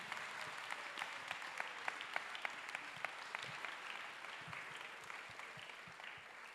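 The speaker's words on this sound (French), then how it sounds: "Now let's clap for Jesus Christ." A church congregation at a Sunday praise and worship service claps for Jesus Christ, a steady sustained applause from many hands with sharper individual claps standing out.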